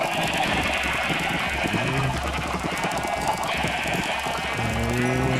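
In Minecraft, sheep give a couple of short, wavering bleats that rise over steady background game sounds, one near the middle and another near the end.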